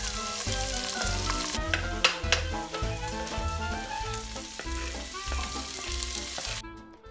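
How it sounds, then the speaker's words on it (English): Garlic fries in a pan with a steady, close sizzle and occasional stirring scrapes, over a rhythmic music beat, with no speech. "So he's going to pre-cook the garlic until it's golden brown"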